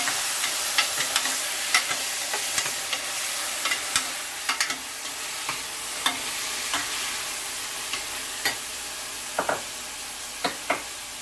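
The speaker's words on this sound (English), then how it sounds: "we're gonna saute it like a minute. And now I'm adding tomatoes." Tomatoes sautéing in a hot pan for a green garbanzo bean and potato curry: a continuous close sizzle broken by frequent scraping stirs.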